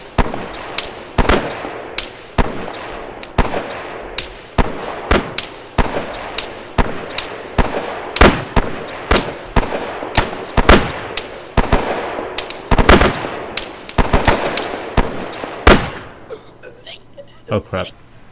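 Gunfire in the video game ArmA 3 with the Faces of War mod, a Japan versus US battle: loud sharp shots crack in an irregular stream with short bursts, some close and some farther off, while a voice talks underneath.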